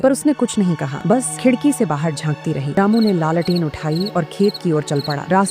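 Crickets chirp at night in a field in a cartoon story, a thin high trill running faintly under continuous narration by a voice actor.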